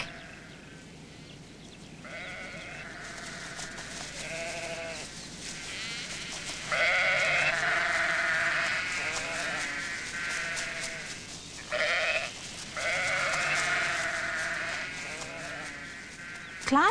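A flock of sheep bleats repeatedly, loud and close, as a sheepdog herds them toward a pen, with overlapping cries in bursts and a voice speaking briefly between them.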